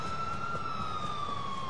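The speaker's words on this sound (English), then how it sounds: "Now they have an ambulance." Ambulance siren in GTA 4 multiplayer, a steady high wailing tone that drifts slowly downward, heard alone against a dull background rumble.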